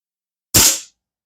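A single sharp shot from a Diana Chaser air pistol fitted with a bottle conversion, a close, crisp crack that decays quickly, alone against silence.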